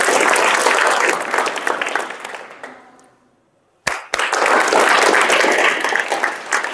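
Schoolchildren and audience at a school program break into loud applause on cue, the clapping fading to near silence after a few seconds before a second full burst erupts and continues strongly.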